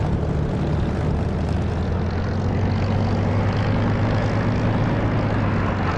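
In a DCS or War Thunder flight sim game, a propeller aircraft drones loudly and steadily as it buzzes past. The engine roar stays constant throughout, with no voices.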